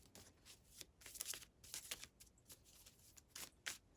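Tarot cards being shuffled by hand: quiet, close riffling and slapping of the deck in irregular bursts, with soft pauses between them and no talking.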